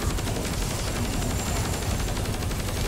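A laser cannon fires in Call of Duty: Cold War Zombies, a loud, dense, continuous blast of rapid fire that stays steady for the whole stretch with no talk over it.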